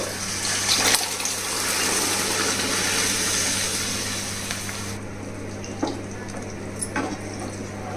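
Chickpeas and water are poured into a pan of frying chole masala spices, giving a loud, steady gushing hiss that cuts off sharply partway through, followed by quieter simmering and a few light clinks.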